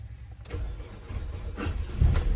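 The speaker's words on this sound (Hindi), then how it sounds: "ये देखें, गाड़ी स्टार्ट हो गई है।" A 2013 Toyota Corolla engine cranking and catching after an ignition coil wiring repair, with short bursts of starter and engine noise building louder toward the end, close by.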